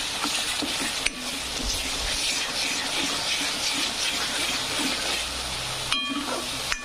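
Spices fry in a pan for Kolhapuri mutton curry, a steady close sizzle and hiss with occasional stirring scrapes and clinks.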